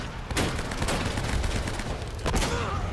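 Gunfire in the action game Uncharted: Drake's Fortune during a boss fight, loud close bursts of rapid shots with a sustained rattling barrage between them.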